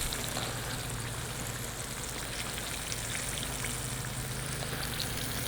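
Sliced green tomatoes, fresh from the garden, frying in a pan with a steady dense sizzle and crackle of hot oil, constant and close with no speech.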